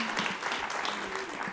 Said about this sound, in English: Keep that round of applause going.